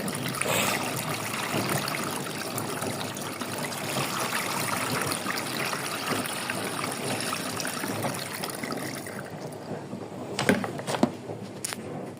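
Water poured in for laundry washing with Ariel pods, a steady rushing, trickling flow that tapers off, followed by a few clattering knocks near the end.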